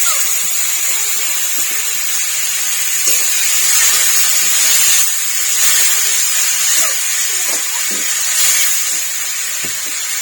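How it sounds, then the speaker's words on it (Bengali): Spiced water hits frying masala in a pan for fish curry and sets off a loud, steady sizzling hiss that lasts throughout, with a few faint clinks underneath. "একটুখানি জল দিচ্ছি, মশলা দেওয়া জলটা একটু দিলাম"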